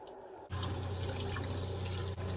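Pressurized freshwater tap on a sailboat running steadily, a close, constant rushing flow that starts abruptly and continues with a brief dip near the end.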